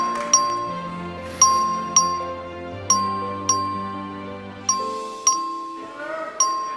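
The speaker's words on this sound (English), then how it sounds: "The clerk will please ring the bell." Bell rung by the clerk in a legislative chamber to call a record vote: about nine bright, clear chime strikes in an uneven rhythm, each ringing out and fading, close and fairly loud with no talking.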